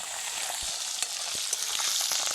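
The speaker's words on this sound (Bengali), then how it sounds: "সমস্ত কিছু উপকরণ একসঙ্গে ভেজে নেব" Ingredients, including hibiscus flowers, frying together in oil in a pan: a steady close hiss of sizzling oil with scattered soft pops and utensil taps, no voices.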